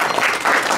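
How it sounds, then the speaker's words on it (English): Loud, dense applause from a volunteer and patron reception crowd, a continuous close clatter of many hands with no break. "give all of yourselves a round of applause"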